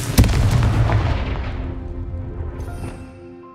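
A Confringo blasting spell goes off in Hogwarts Legacy, a sharp, loud boom at the start that rolls into a long, fading rumble with lingering game sounds as it decays.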